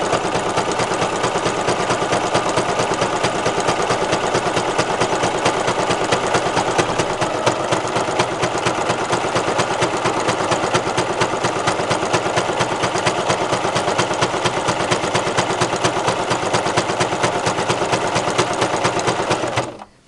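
A sewing machine stitches a fabric wall quilt, running in a steady, rapid mechanical chatter for about twenty seconds before stopping abruptly.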